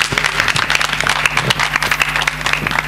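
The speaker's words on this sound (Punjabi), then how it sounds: "ਤਾੜੀਆਂ ਮਾਰ ਦਿਓ ਇੱਕ ਵਾਰੀ ਜ਼ੋਰ ਦੀ ਜੇ" Loud clapping from a crowd at a Mrs Punjab beauty pageant semifinal, sharp individual claps standing out over the massed applause, with a steady low hum from the hall's sound system beneath.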